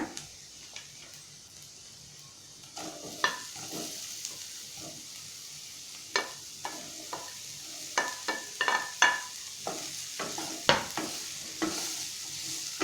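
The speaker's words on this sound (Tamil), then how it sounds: "காலிஃப்ளவரையும் நம்ம நல்லா இந்த பவுடரோட நல்லா மிங்கிள் ஆகி வர அளவுக்கு நல்லா எல்லா பக்கமும் பரட்டி விட்டுக்குவோம்" Cauliflower pieces being stirred with spice powder in an oily pan for a pepper fry, with scraping and tossing strokes over a soft continuous sizzle, near and fairly quiet, with no talking.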